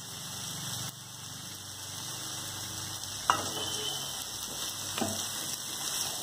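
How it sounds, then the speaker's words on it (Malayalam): Coconut oil drizzled over chickpeas cooking in a pan for Kerala-style kadala upperi gives a steady sizzling hiss that runs throughout, with a couple of sharper clinks or pops near the middle. "ഇനി നമ്മൾ എന്താ ചെയ്യേണ്ടതെന്ന് വെച്ചാൽ ഇതിലേക്ക് മേലെ കുറച്ച് വെളിച്ചെണ്ണ ഒഴിച്ചു കൊടുക്കാം."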